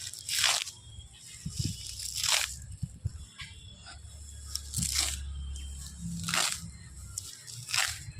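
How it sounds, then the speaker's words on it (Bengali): Fresh young grass being pulled and torn up by hand outdoors as rabbit fodder, several crisp crunching rips spaced a second or two apart, close and fairly loud over a low background hum. "ভালো ভালো একটু ঘাস ছাড়িয়েছি, আরও ঘাস নেবো"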